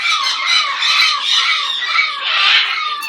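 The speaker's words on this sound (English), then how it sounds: "What a good little bird." A pet bird squawks repeatedly at close range, loud rasping calls in a rapid, pulsing series that fills the moment without any talking.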